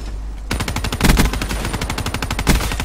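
Heavy machine gun in Black Ops 3 firing a sustained, rapid automatic burst after a brief quiet start, loud and close with an even rhythm of shots and no talk.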